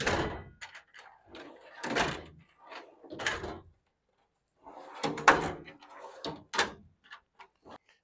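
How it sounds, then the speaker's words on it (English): A drawer of a U.S. General Series 3 42-inch tool storage cabinet slides open, a series of close metallic rattles and clunks in uneven bursts separated by short pauses. "we take the locks, we pull them this way, and then the drawer will open"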